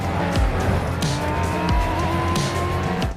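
Race car engines roar with repeated gear-shift pitch drops and tire squeal in the mobile racing game Racing Master, made with Codemasters; loud and continuous across the clip with no talk.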